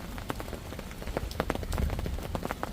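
Rain falling on a riverbank during a bream feeder-fishing session, a close patter of distinct drops striking surfaces at an uneven rhythm over a steady wet wash.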